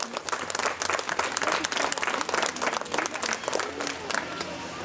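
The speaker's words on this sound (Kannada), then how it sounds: "ಅವ್ರಿಗೆ ಕೂಡ ಒಂದು ದೊಡ್ಡ ಚಪ್ಪಾಳೆ ನಿಮ್ಮಿಂದ ಬರಬೇಕು." An audience at an International Women's Day function claps in lively applause that runs for about five seconds. The dense claps come from many hands in a hall, moderately loud, with faint crowd voices underneath.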